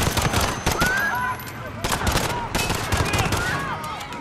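Bursts of automatic gunfire crackle through a Modern Warfare campaign scene, rapid overlapping volleys at close range. Shouting voices and chaotic noise run underneath them.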